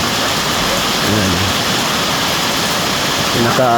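Heavy rain pours down as water comes inside, a loud, dense, unbroken roar, with a few brief bits of talk near the start and the end.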